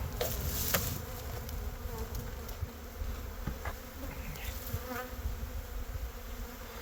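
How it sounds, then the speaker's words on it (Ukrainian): A dense, steady buzzing of many honeybees at a hive swarms close by, continuous and fairly loud, with no voices. "Бджоли гарно виглядають, вже їх повністю в першому корпусі."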